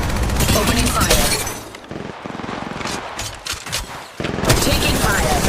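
Bursts of gunfire from the mobile shooter game Apex Legends Mobile, loud rapid volleys at the start and end with a brief quieter stretch of scattered shots between.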